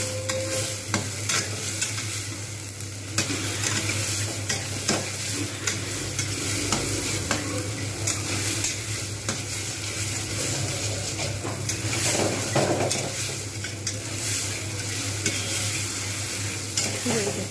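Ridge gourd peel paste frying in oil as it is stirred in a pan, a steady close sizzle with scraping strokes of the spatula running throughout, no voices.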